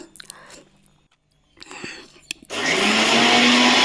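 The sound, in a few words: mixer jar grinding ingredients into powder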